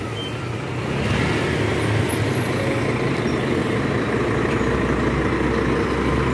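Nobre intercity bus from Brasília pulling into the Belo Horizonte bus station during busy Carnival arrivals, a steady low diesel engine rumble that swells after the first second and holds amid station bustle and distant traffic.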